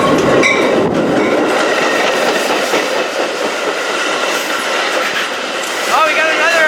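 Milwaukee West Main Line commuter train 2240 bound for Chicago, nearing a station: a loud, close, continuous rumble with rail clatter throughout and a rising wheel squeal near the end.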